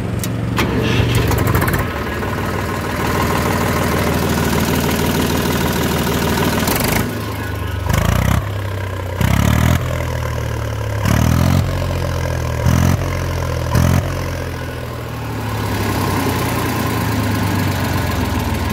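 An Eicher 485 tractor with a 45-horsepower air-cooled engine self-starts and settles into a loud, close idle, its low chugging thump steady, with several short revs or knocks later on.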